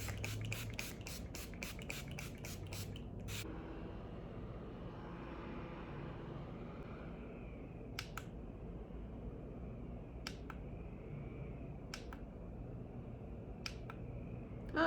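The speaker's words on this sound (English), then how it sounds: "I'm going to use the Urban Decay All Nighter Ultra Matte setting spray" Urban Decay All Nighter Ultra Matte setting spray is pumped in a quick run of sharp, hissing spritzes, then a few single spritzes spaced apart, over a steady background hum of a fan.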